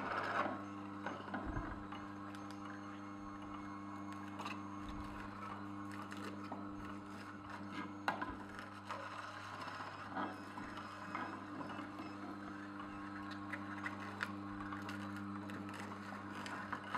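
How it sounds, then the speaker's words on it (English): An Omega TWN 32 twin-gear juicer grinds romaine lettuce with a steady mechanical whir and crunching, running continuously and close by with no talk. "It's juicing pretty well."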